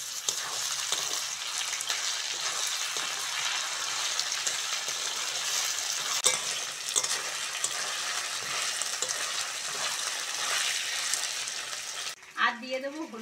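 Boiled potatoes frying in a pan as ginger, garlic and green chilli paste goes in, a steady close sizzle with scraping stirs that fades near the end into a brief burst of other noise.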